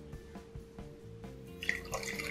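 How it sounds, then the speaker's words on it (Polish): Butterbeer base is poured into a mug, giving soft splashes and drips that build into a brighter, continuous trickle near the end, close and moderately quiet. "Tak więc zalałem to bazą, teraz będę dolewał wody gazowanej."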